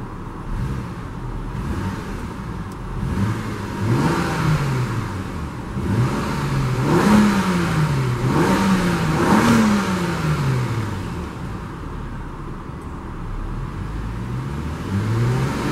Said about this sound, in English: let's see how this XC60 sounds like